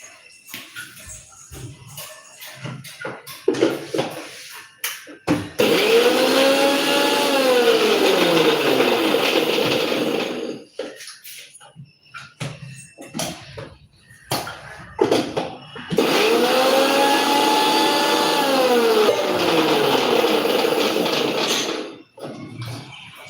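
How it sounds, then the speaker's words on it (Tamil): A mixer grinder grinding chopped curry leaves whirs loudly in two bursts, each several seconds long, with quieter clattering and handling noises before, between and after. "கருவேப்பிலையை ஏற்கனவே பொடியாக நறுக்கி வச்சிருக்கிறேன் இதை லேசாக மிக்சியில ஒரு சுத்து சுற்றி எடுத்துகிட்டு வந்துடுறேன்"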